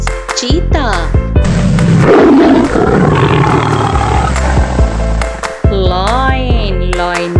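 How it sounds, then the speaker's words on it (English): A big cat's roar, identified as a tiger, rumbles loud and close for several seconds, with a voice speaking before and after it. "Tiger. Tiger means cheetah."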